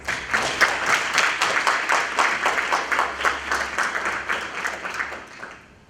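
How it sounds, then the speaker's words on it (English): Audience round of applause at a university leadership speaker series, a steady rhythmic wash of many hands clapping, fairly loud and close, tapering off at the end. "So quick round of applause."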